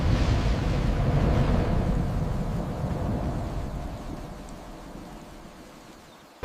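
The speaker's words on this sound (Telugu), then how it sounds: "భారీ తుఫాన్ వచ్చింది" A heavy thunderstorm in an animated story: loud rumbling thunder and dense rain roar, strongest at the start and slowly fading over several seconds, with no voices.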